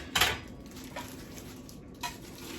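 A Ninja Foodi air frying and steaming pot, part of a 5-quart set, is unpacked and handled, giving two sharp clattering knocks near the start and end with a softer tap between, over quiet room tone.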